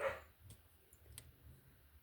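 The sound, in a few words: dog barking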